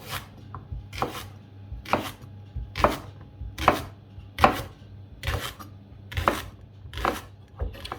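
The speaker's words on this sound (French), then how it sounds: "on va faire cuire le poireau et l'oignon. Donc on va tout simplement le découper en rondelles" A knife slices a leek into rounds on a cutting board, about ten crisp, evenly spaced chops close by, each a sharp crunch and thud, with no talking in between.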